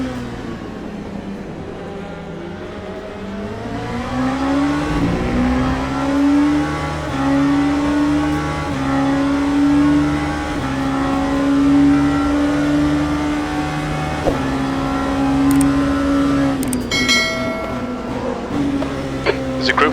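Race car engines howl in a multiclass racing video game at Silverstone, one car's engine rising and holding in a sustained whine through gear changes, with slower cars nearby and a voice talking over it.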